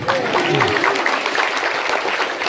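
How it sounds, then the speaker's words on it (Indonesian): Audience applause in a hall after a speaker sings a short religious chant, a steady burst of many hands clapping with a voice briefly audible over the start. "tepuk tanganlah dulu"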